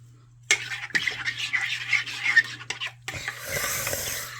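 Tomato paste being mashed and stirred in a crockpot while making shrimp and sausage jambalaya, a close scraping, rasping rub of a utensil in irregular strokes over a steady low hum, with a brief louder clatter near the end.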